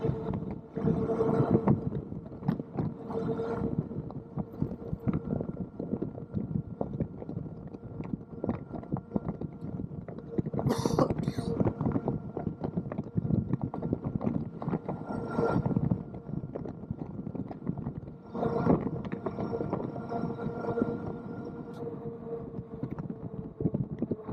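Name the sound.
Kingbull Rover electric mountain bike ridden at full throttle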